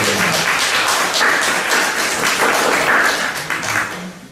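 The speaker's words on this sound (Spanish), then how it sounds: "Un fuerte aplauso para Alejandra Tenorio" An audience at a doctoral literature colloquium applauds a speaker with dense, steady clapping from many hands, loud throughout and thinning slightly at the very end.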